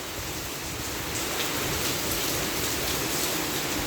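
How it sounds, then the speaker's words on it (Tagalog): Heavy rain pours down in a dense, continuous roar with no pauses, loud and steady throughout. "Grabe ang lakas ng ulan guys."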